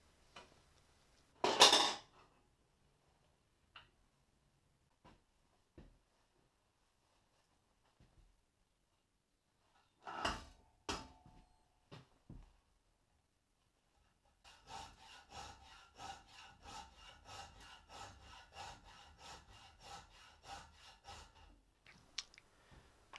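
Hacksaw cutting through a suspension bolt on a Panther Model 50 motorcycle, a few sharp clanks early on, then a steady rasping back-and-forth sawing stroke rhythm in the last stretch, close and fairly quiet, no talk.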